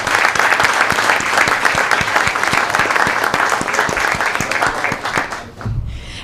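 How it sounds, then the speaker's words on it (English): Sustained applause from an audience at an outdoor ribbon cutting for an EMS trailer in East Boston, dense steady clapping filling the whole stretch before tapering off near the end. "So round of applause for all of them."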